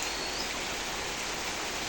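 Rain falling steadily on a rainy day, a dense even hiss of drops with no distinct individual impacts and no voices.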